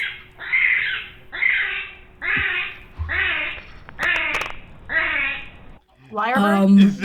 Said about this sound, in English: I just looked up Kiwi sounds